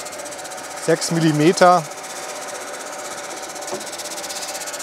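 A lawn scarifier's blades rattle and buzz as it dethatches the lawn at a low cutting depth, making a steady close mechanical drone with a rough rattling texture. Someone speaks briefly over it.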